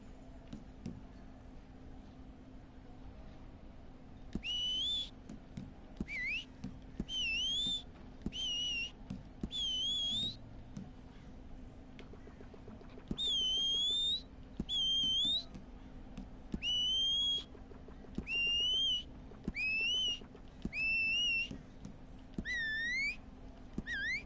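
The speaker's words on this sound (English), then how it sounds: "It's a whistle." Melodic whistled notes in the Red Dead Redemption 2 online game ring out in short, repeated phrases of rising and falling pitch, clear over a low steady game ambience with no speech.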